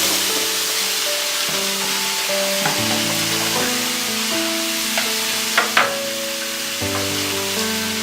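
Ridge gourd pieces sizzle in a hot pan for a tomato thokku, with a steady, close, fairly loud frying hiss that runs throughout, plus a few brief stirring scrapes near the end.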